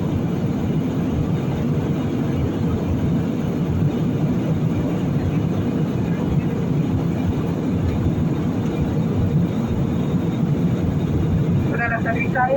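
Steady, loud broadband roar of a passenger jet cabin during its landing approach into Bogotá, a constant engine and airflow rumble filling the whole stretch with no break.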